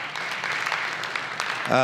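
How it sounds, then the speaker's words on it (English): Audience at a foundation event clapping, a brief, moderately loud spatter of applause under a voice speaking over it, ending with a louder voice. "Hey, can we clap for them?"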